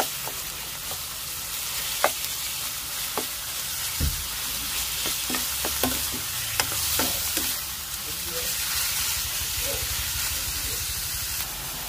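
Ground pork sizzles and frys in a pan in a home kitchen, a steady hiss broken by a dozen or so sharp scraping clicks and knocks as a utensil stirs the meat against the pan, with no talk.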